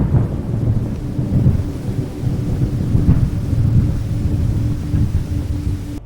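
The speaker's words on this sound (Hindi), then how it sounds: "बारिश अब तेज हो गई थी, बिजली की कड़क रात के सन्नाटे को चीर रही थी।" Heavy rain pours steadily through the night while deep thunder rumbles and cracks, the low roll swelling and fading continuously without any voices.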